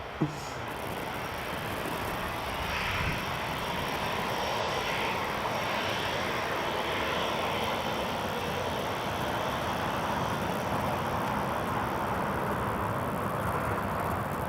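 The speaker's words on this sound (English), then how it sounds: "An Emirates A350 is lining up." An Emirates Airbus A350 jet lines up on the runway at Newcastle International Airport, its engines producing a continuous, steady roar that holds at an even level throughout.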